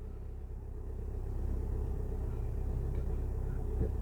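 A Škoda Karoq Edition creeps forward while parking, giving a steady low engine rumble and road hum that stays even and close throughout, with no talking.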